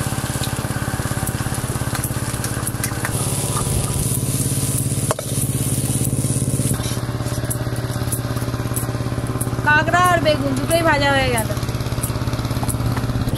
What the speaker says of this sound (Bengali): টিলারের আওয়াজটা এত জোর আসছে